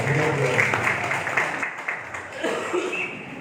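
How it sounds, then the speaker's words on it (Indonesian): Applause for two men after a Friday prayer imam and preacher demonstration, a soft, steady wash of hand clapping from a seated audience in a hall, fairly distant and continuous. "Tepuk tangan untuk mereka berdua."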